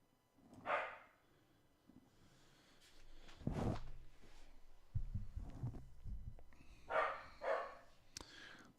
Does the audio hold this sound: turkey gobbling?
no